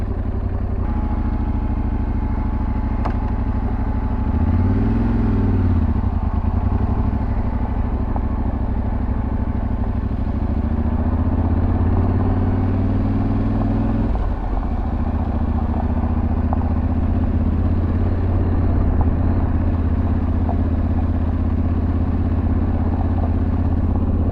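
A 2023 Yamaha Tenere 700 motorcycle rides off-road, its engine droning loud and steady throughout with a few revving swells and changes in pitch, and no talking.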